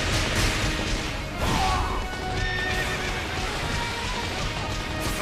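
A horse neighs loudly in Fire Emblem Warriors, with a whinny and clip-clopping hooves over dense, clashing battle sounds and a whoosh.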